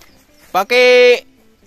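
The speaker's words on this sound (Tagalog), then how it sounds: "kaninong kambing to?" A goat gives a short bleat followed by a longer, wavering, nasal bleat, close and loud, with quiet surroundings.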